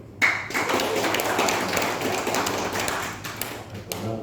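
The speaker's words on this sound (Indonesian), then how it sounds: "Dan tepuk tangan ini untuk lokal Banyumas." Audience clapping at a Banyumas amateur radio (ORARI) officers' inauguration ceremony, a dense, steady patter of many hands continuing throughout at moderate level.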